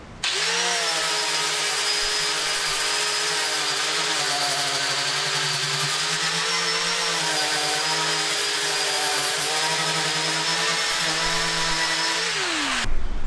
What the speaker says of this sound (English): I prefer to use a sanding disc. It's just like a worn down flapper disc